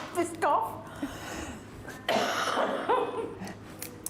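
Repeated coughs and throat clearing from a person in an indoor class setting, loud and close, mixed with breathing and a few short bursts, with talking around them.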